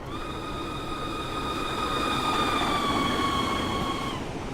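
An MN FL9 locomotive runs in Train Simulator 2016 with a steady rumbling drive and a sustained multi-tone horn blast lasting several seconds, loud and close.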